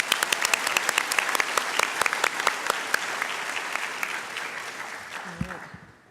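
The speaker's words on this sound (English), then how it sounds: "Let's give them another round of applause." Audience applause at a university Latinx graduation ceremony, steady sustained clapping from a large crowd that fills the room for several seconds, then fades out near the end.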